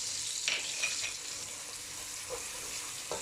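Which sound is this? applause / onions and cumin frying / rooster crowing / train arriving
onions and cumin frying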